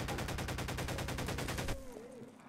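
Rapid .357 revolver gunfire in Garry's Mod, a steady string of loud, evenly spaced shots that stops abruptly, leaving a faint tail of quieter sound.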